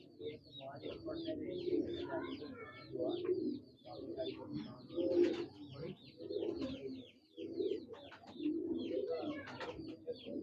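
Breeder pigeons of the Lale Yusuf line coo in soft, repeated throaty phrases, with a few chirps mixed in from nearby birds. Voices talk faintly in the background.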